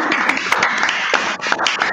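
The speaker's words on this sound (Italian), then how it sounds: "Ragazzi, fate un applauso, siete stati bravissimi." Dense, steady applause from a group for performers at an online mentalism show, with many overlapping claps sustained at a close, even loudness throughout.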